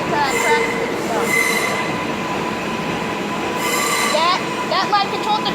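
A New York 7 subway train creeps slowly through 34th Street toward a crossover, its wheels squealing and whining in repeated high-pitched bursts over a steady loud rumble of rail cars.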